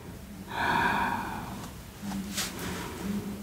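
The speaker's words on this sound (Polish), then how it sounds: "Spokojne oddechy." Audible breathing during a calm yoga practice: one clear, slightly voiced breath lasting about a second near the start, then softer, quieter airflow over a low room hum, close to the microphone, with no talk.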